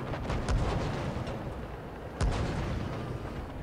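An IS-7 tank's cannon fires in World of Tanks Blitz, two heavy booms a couple of seconds apart over a dense low battlefield rumble, without speech.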